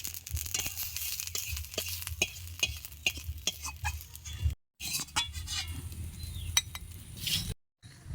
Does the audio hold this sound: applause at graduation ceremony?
no